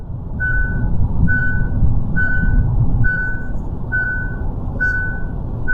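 A car's driver-assist warning chimes while the driver's hands rest on the wheel: seven or so evenly spaced, clear beeps, roughly one per second, sit over a steady low rumble of road and engine noise inside the cabin.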